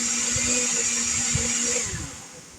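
A blender runs steadily, grinding ingredients for a homemade tomato sauce with a loud continuous motor whine, then eases off slightly near the end.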